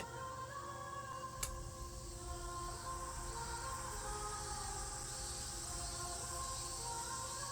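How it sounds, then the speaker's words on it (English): Cicadas in the visual novel Tsukihime make a steady, high-pitched droning buzz that holds at an even level throughout, with one brief click near the start. "The sound of cicadas like needles trying to pierce my eardrums."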